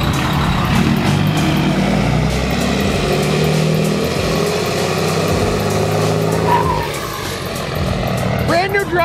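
A diesel truck with a small Cummins engine roars steadily up close, revving hard on a street, while people talk over it.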